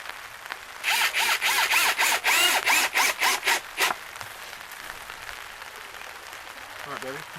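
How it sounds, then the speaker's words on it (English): A power drill drives two screws into a greenhouse door, whirring in a string of short close bursts for about three seconds before falling quiet. "I'm gonna go ahead and put 2 screws in it."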